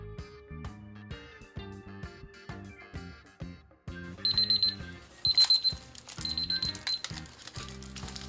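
A kitchen timer goes off after a four-minute epoxy resin mix, its rapid high beeps sounding in quick bursts over steady background music.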